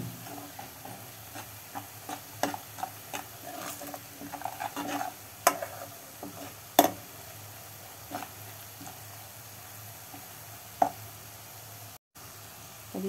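Turmeric, salt and coriander powder being stir-fried in a pan for paneer bhurji: quiet, steady sizzling broken by scattered scrapes and taps of a spoon against the pan, close by.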